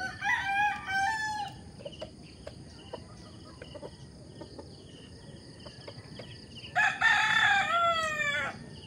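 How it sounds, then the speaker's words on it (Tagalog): White kelso gamefowl roosters crowing, one loud close crow at the start and another near the end, with faint clucks and a steady chirp of crickets in between. "iikutin po muna natin yung ating mga manokis"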